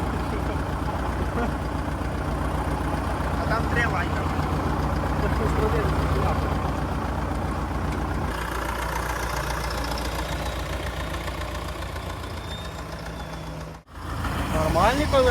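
A Т-40 tractor engine idles steadily with a low, constant rumble, while people talk nearby; the engine noise continues throughout, with a brief dropout near the end.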